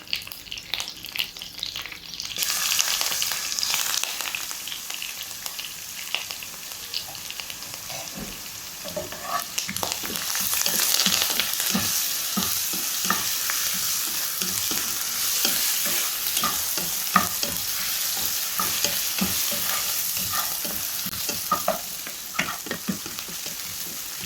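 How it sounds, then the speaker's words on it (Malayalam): Curry leaves with crushed ginger and garlic fry in hot oil for a fish curry, a loud, continuous crackling sizzle with frequent close scraping stirs throughout. "ഒരു സ്പൂൺ ഇഞ്ചി വെളുത്തുള്ളി ചതച്ചതും കൂടിയിട്ട് ആഡാക്കി ഒന്ന് പിന്നെ അതിൻ്റെ ഒരു പച്ച മണം മാറുന്നത് വരെ ഒന്ന് ഇളക്കിയെടുക്കുക"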